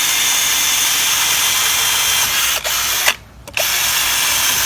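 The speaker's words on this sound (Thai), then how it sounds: "มาลองเจาะไม้เนื้อแข็งให้ดูนะครับ" An Imax 24V cordless drill bores into hardwood, a loud, steady high whine that briefly drops off and then resumes at full speed.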